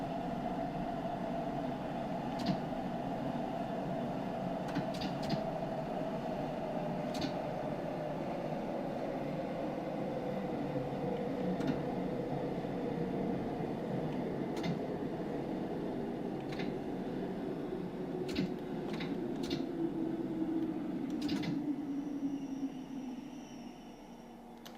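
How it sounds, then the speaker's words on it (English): London Underground Bakerloo line train in Train Sim World 2 running along the track, a steady droning motor whine that slowly falls in pitch, with scattered clicks and rattles over the rails, fading slightly at the end. "Hey, there's one of those other funny trains"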